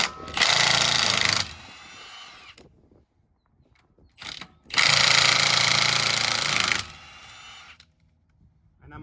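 Power tool loosening the rear brake bolts on a 2019 Ford Fusion Hybrid, two long loud whirring bursts with ratcheting mechanical rattle, separated by a quiet gap with short clicks.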